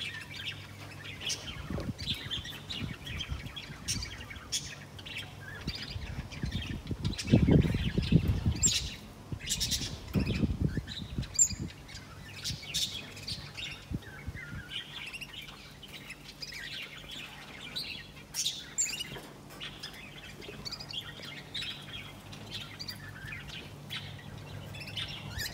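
A pet white canary chirps and tweets in short, scattered calls over a steady indoor background, with a busier, louder stretch of activity near the middle and quieter calls continuing afterward.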